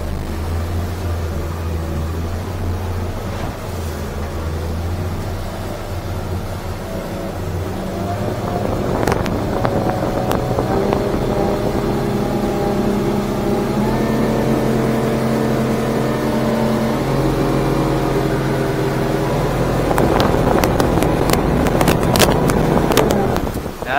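A 2023 Stabicraft 2250 Ultra Centrecab Sportfish motorboat spinning in a tight circle, its outboard engine droning steadily with rising pitch and strain, wind buffeting the microphone and water splashing near the end.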